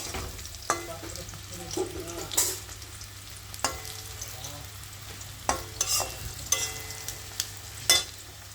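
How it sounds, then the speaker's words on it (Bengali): Teasel gourd (kakrol) fries in a pan with a steady sizzle, broken by repeated scraping and clanking strokes as it is stirred. "কাঁকরোল ভাজাটা হয়ে গেছে"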